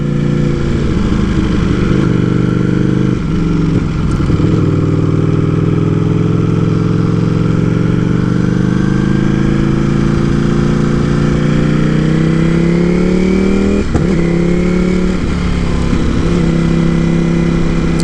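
A 2018 Ducati Panigale V4S motorcycle is ridden, its V4 engine droning loud and close with rising pitch through the gears, punctuated by a few shifts and throttle changes, continuous under wind.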